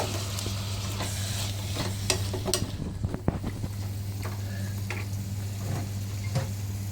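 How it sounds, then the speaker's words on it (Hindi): Garlic paste frying in hot oil for egg biryani, with a steady close sizzle and intermittent stirring scrapes and spoon taps against the pot. "ये मैंने कूट के रखा हुआ है लहसुन का पेस्ट, ये डालेंगे।"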